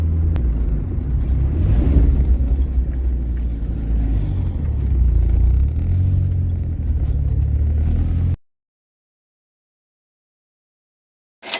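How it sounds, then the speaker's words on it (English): VW Mk2 Jetta spinning its wheels in second gear and accelerating, a loud low engine roar and rumble building steadily for several seconds before cutting off abruptly into silence. "Love a second gear wheel spin."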